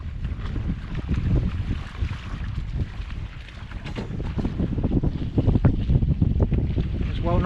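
Wind blusters across the microphone aboard a small Tomahawk sailboat on the water in October, a loud, steady low rumble with gusts rising toward the end.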